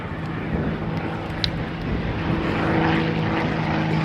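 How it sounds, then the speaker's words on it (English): A CT-4 propeller trainer flies a low pass, its engine drone building gradually louder toward the end against light wind noise. "Doing a low pass now"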